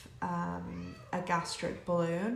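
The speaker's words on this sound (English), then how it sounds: "apologies if you hear a tiny bit of meowing" A cat meows repeatedly indoors, drawn-out vocal calls that overlap a person talking throughout.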